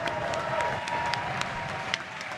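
Steady applause fills the House chamber in thanks to staff: a dense, even patter of many hands clapping at moderate distance, with a few louder claps standing out.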